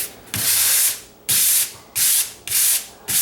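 A drywall patch sanded by hand in long strokes, five rough rasping sweeps, each lasting about half a second to a second, with short quiet gaps between them.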